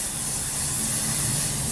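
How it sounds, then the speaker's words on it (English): Big Sexy Hair hairspray is sprayed onto short curly pixie-cut hair from a distance in one steady, continuous hiss lasting under two seconds, with no talking. "I use this big, sexy hairspray."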